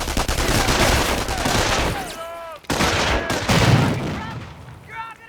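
Machine-gun fire and a grenade blast in the Company of Heroes strategy game: a loud, continuous rattle of gunfire with a heavy boom. Voices are heard briefly over the battle noise.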